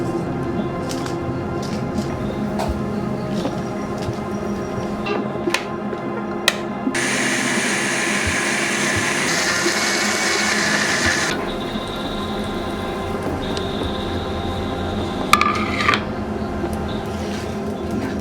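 A mixer grinder grinds salt, chili and tamarind for a Tulunadu pathrode batter in a village kitchen, a loud steady whirring burst lasting a few seconds amid household clatter and background noise, with a brief second run near the end.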